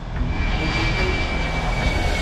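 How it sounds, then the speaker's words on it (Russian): Jet aircraft engines rumble steadily at a busy Frankfurt airport, a continuous loud, broadband roar with a faint high whine, and no voices. "45 самолетов могут двигаться одновременно"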